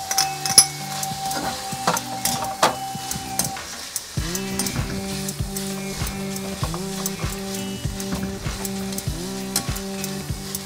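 Ginger, chilli and spices sizzle steadily in a pan as chicken momo filling fries, with occasional utensil clinks and stirring over a continuous crackling sizzle.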